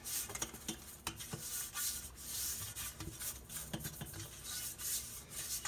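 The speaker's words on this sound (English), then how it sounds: "So I'm going to go ahead and grease and flour this pan." Greasing a cake pan with Crisco or lard makes a quiet, close rubbing and scraping against the metal in irregular strokes, with occasional light taps of the pan.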